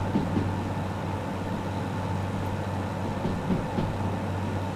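A DM3 locomotive runs in the Derail Valley train simulator with a caboose attached, giving a steady low engine rumble and rolling drone that holds evenly throughout, with no voices.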